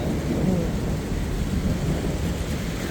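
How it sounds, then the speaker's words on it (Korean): Thunder rumbles through a summer storm on a pilgrimage cycling route toward Ponferrada, Spain, a steady low roll with rain noise that holds throughout the short stretch, no talk over it. "오, 천둥번개 천둥도 심하"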